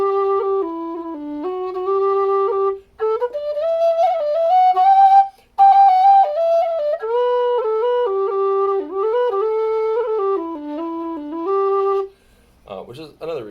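A low D whistle plays a flowing melody of sustained, breathy tones with quick ornamented notes, clear and close, ending abruptly in a short clatter.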